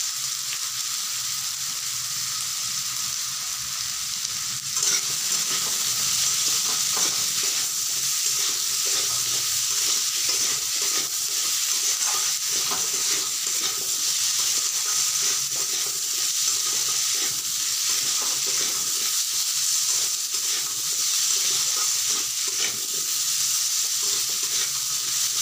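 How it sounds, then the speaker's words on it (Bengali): Potatoes, onions and dried fish with salt and turmeric fry together in a pan, producing a long, loud, even sizzle with frequent stirring scrapes running throughout. "এভাবে করে কিছুক্ষণ ধরে ভাজতে হবে, তাহলে আলুগুলো ভাজা হবে, পেঁয়াজগুলো মাছগুলো সব একসঙ্গেই ভাজা হবে।"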